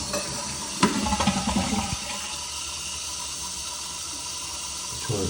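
A Kohler toilet flushes after its fill valve has been replaced. A close, sudden rush of water swirls for about a second, then settles into a steady hiss as the tank refills.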